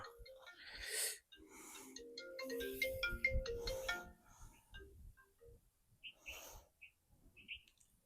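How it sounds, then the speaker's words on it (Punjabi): A mobile phone ringtone plays a bright, chirpy melodic tune in the middle of a Punjabi drama scene, mixed with nearby voices and rustling. "ਫੋਨ ਕਿਹਦਾ ਆ ਗਿਆ ਵਾ"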